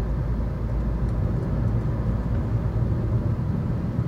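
A Maruti Vitara Brezza car cruises on a highway in fourth gear, producing a steady, loud, low engine and road rumble that holds constant throughout with no voices.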